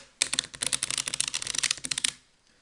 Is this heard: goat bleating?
no